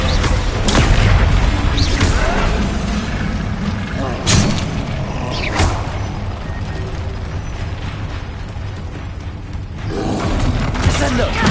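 Descendo spell slams in Hogwarts Legacy land as heavy booming impacts, with sharp hits near the start and two more around the middle, over a dense, continuous roar of spell combat.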